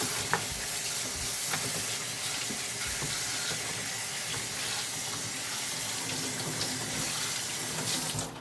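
Tap water runs steadily into a sink while bitterroot is rinsed, a continuous close splashing hiss with small clinks and handling sounds throughout.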